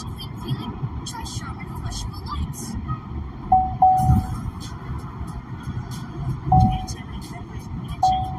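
Inside a moving car, the lane-keeping assist sounds short, clear warning beeps three times, spaced a few seconds apart. They cut through road and cabin rumble while a driver talks.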